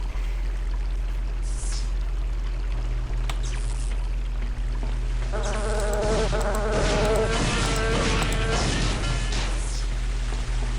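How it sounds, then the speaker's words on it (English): Insects buzzing in the first-person shooter Daikatana, a steady whining drone over a constant low hum, swelling into a denser, louder swarm partway through. "I'm inside a facility and I'm still fighting freaking mosquitoes."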